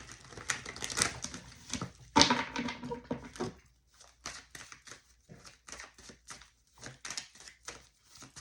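Tarot cards are shuffled by hand in a series of crisp, papery riffles and taps, busier and louder at first, then settling into short irregular bursts.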